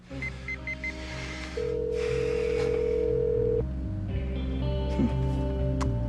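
A cell phone call goes unanswered in a TV soap-opera scene: a few short electronic beeps, then a steady ringback tone that holds for about two seconds before the line keeps buzzing faintly, with no voices.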